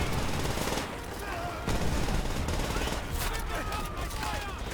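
Dense gunfire from the Call of Duty video game rattles in bursts over loud game noise, close and sustained through the whole stretch, with speech mixed in.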